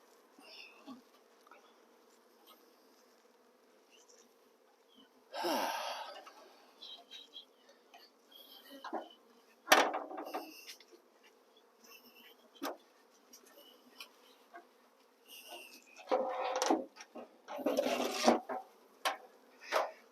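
Honey bees buzz around a hive box cover set aside for them to crawl off, a faint steady hum with several louder close passes of individual bees.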